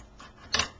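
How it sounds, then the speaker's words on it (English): A quick snip of scissors cutting paper, a soft blade rasp followed by one crisp cut, close and brief with no voices. "use your scissors."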